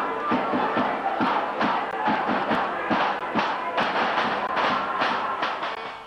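A big crowd at a 1987 Greek football derby between Heidelberg United and South Melbourne chants and cheers in rhythmic bursts, with regular loud thumps or claps punctuating a steady roar, heard from within the stands.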